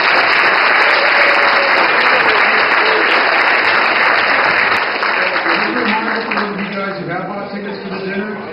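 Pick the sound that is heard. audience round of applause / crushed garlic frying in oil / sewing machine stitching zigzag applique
audience round of applause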